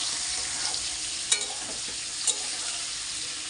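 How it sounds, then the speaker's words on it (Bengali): Onions frying in a pan for a Bengali home meal give a steady, close sizzle, with two brief clatters of a spatula or spoon against the pan partway through; no one speaks. "পেঁয়াজ ভাজছি"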